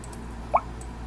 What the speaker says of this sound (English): That splash sound, the first time I heard it,